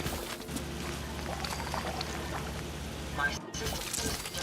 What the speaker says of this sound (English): this area here is a little noisy, but there's a lot of generators and turrets